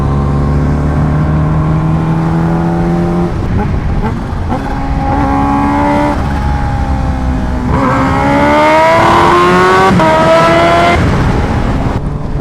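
A Kawasaki Ninja H2R motorcycle at full power, its engine note loud and sustained, climbing and shifting through several rising pitch sweeps as it accelerates, heard close with no talking.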